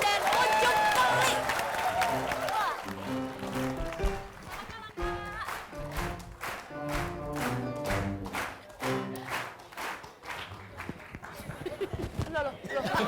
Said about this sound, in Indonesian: langsung saja kita berikan tepuk tangan untuk kehadiran Wakil Presiden Ucup Keli